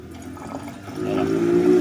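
Water runs out of a part of a Kia Bongo engine during a repair, a short gurgling pour that grows louder toward the end.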